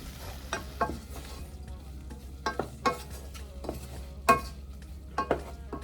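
Tiny shrimp for Jamaican jerk rasta pasta cook in a pan under a low, steady sizzle, punctuated by several sharp spatula scrapes and clinks at irregular intervals, heard up close without talking.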